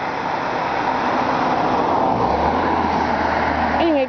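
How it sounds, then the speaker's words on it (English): Road traffic rumbles past in a steady, broadband wash of vehicle noise that holds continuously throughout, with a brief voice rising near the end. "vehicular traffic here."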